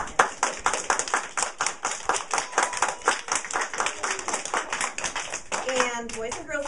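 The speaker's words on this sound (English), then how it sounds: "So we can give them a round of applause." A small audience of schoolchildren claps for student performers after a readers' theatre play, a fairly sparse, rhythmic patter of hands, close and uneven, with a voice breaking in at the end.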